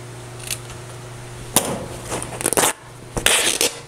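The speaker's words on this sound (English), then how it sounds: "I just love the sound of cloth ripping." Fabric cloth torn by hand for a mixed-media collage, heard as several short, loud ripping bursts separated by quiet pauses, close up and with no speech.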